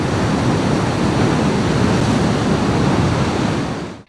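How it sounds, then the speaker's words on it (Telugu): Floodwater of the Musi river rushing powerfully after heavy upstream rain, with dam gates opened upstream, a loud, steady broadband roar with no pause, holding near and constant until it cuts off at the end. "ఎగువ ప్రాంతాల్లో కురిసిన భారీ వర్షాలతో మూసీ నది ఉధృతంగా ప్రవహిస్తోంది."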